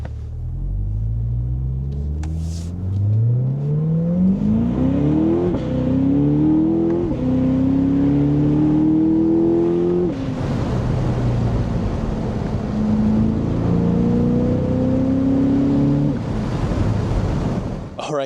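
Chevrolet Corvette C8 V8 engine and exhaust under spirited driving, loud and continuous with rising revs through several gear changes, crackles, pops and low burbling on lift-off.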